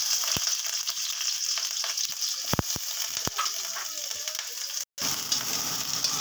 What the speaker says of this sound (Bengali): দিয়ে দিলাম তেল কড়াতে, দিয়ে দিচ্ছি কুচিয়ে রাখা পেঁয়াজ